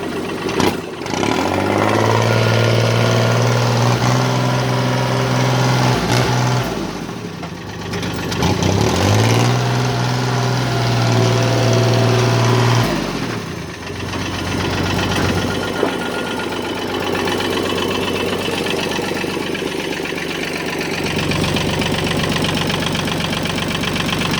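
A 2011 Kubota 36 hp tractor engine runs steadily after starting, a loud, close diesel drone with a knocking idle that twice rises and holds a higher pitch before dropping back, continuing alone without talk.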